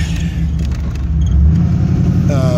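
A Camaro IROC with a throttle body injected 305 V8 rumbles loudly while driving, a steady low engine drone that swells slightly partway through, with no one talking.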